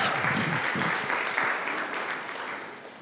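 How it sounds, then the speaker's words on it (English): Evening event audience applauding themselves, a full, steady burst of clapping from a room of people that slowly fades in the last second, with no voices over it. "please give yourselves a round of applause for coming tonight"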